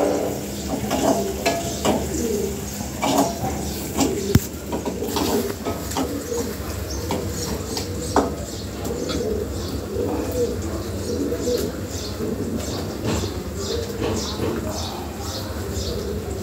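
Pigeons at a Bangladeshi pigeon sale, among them a breeding pair, give soft, repeated low coos that carry steadily under nearby talk and a background hiss.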